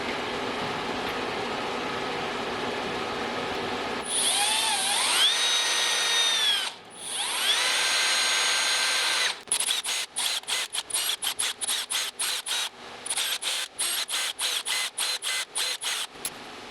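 A power drill works through mounting holes in steel buggy chassis brackets: a low background hum, then two sustained high-pitched whining runs, followed by a rapid series of short, choppy bursts as the bit starts and stops, close and loud.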